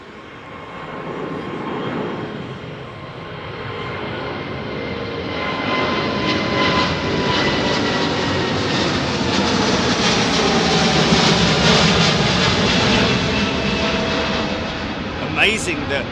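An airliner departs runway 09R at London Heathrow and passes overhead, a broad jet roar swelling from moderate to loud and holding steady for most of the pass before easing slightly at the end.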